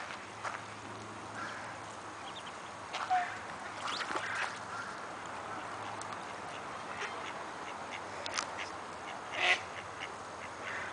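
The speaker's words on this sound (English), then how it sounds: "These little ducks are just cute." Ducks quack faintly and sporadically against a quiet outdoor background at Swan Lake and Iris Garden, with a couple of slightly louder calls standing out.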